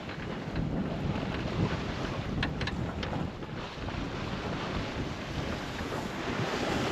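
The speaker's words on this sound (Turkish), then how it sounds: "Şu an çok minnoş bir rüzgar var." A gentle wind blows while a sailboat sails close-hauled at about four to five knots, a steady breathy rush of air and water over the microphone, with no talking.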